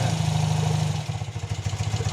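A BMW police motorcycle engine runs steadily and then settles into a lumpy, pulsing idle with a rhythmic throb, close by and moderately loud, with no voices.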